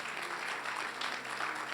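A church congregation applauds at a service, a steady wash of clapping at moderate distance that keeps going without a break.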